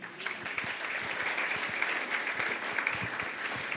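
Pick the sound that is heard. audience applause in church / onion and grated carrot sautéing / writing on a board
audience applause in church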